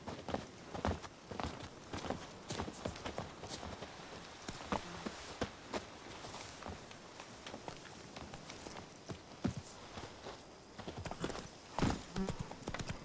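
Hooves of the horse Roach clatter in a fast, steady clip-clop gallop across the ground in The Witcher 3, a continuous rhythmic patter at moderate distance with no talk over it.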